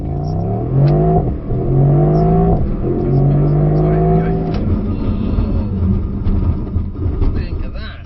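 Mercedes SL63 launching hard from a standstill, engine climbing through rising gear-like sweeps with a shift dip, loud and close inside the cabin, with voices talking over it.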